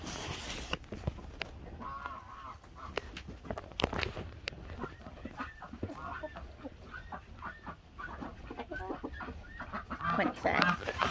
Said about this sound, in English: Hey, baby chickens.